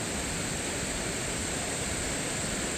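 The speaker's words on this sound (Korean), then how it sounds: "오랜만에 주황 계곡 물소리를 들으니 아주 분위기가 좋습니다." Rushing water of a mountain valley stream, Jugyeong Valley in Juwangsan, swollen with water, pours steadily, a dense unbroken hiss like a fast stream or small cascade, loud and close.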